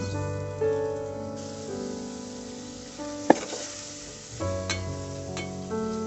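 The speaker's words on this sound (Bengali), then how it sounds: "এখানে ঢাকনা দিয়ে আবার ভালো করে কষিয়ে নেব" Shrimp cooking with ginger and garlic in a pan, a soft continuous sizzle with a sharp clink partway through and a lid or utensil knock near the end, no voices.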